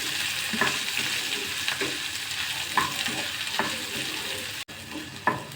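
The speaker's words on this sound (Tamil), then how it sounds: "இப்போ வெங்காயம் சேர்த்து லோ ஃப்ளேமில் 3 நிமிஷம் ஆகுது" Onion frying on a low flame with dried chillies and curry leaves for a spicy garlic dosa masala: a constant close sizzle broken by regular scraping stirs from a spoon in the pan.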